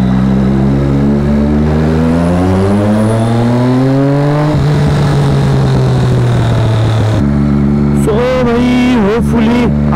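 A Triumph Daytona 675 motorcycle engine with a Yoshimura slip-on exhaust climbs in revs, drops to a rough idle, then gets sharp throttle blips, loud and close.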